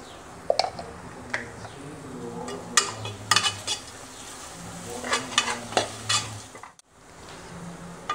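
Onion masala frying in a pan for a beetroot biryani, with crackling oil and repeated spoon scrapes and clinks against the pan in uneven bursts, close up and with no voices.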